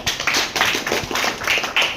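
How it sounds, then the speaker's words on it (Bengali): An audience claps hands in a burst of applause at a gathering marking Netaji Subhas Chandra Bose's birth anniversary, the sharp, dense claps continuing steadily for about two seconds. "ওনার জন্য জোরে হাত তালি একটা"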